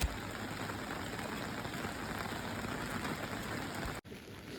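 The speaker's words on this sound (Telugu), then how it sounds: "ఇంకా రామప్ప టెంపుల్కి వెళ్ళేటప్పుడు కూడా చాలా హెవీగా వాన పడింది." Heavy rain pours steadily near the Ramappa Temple in Warangal, a dense, even hiss of drops on surfaces that cuts off abruptly near the end, leaving fainter rain.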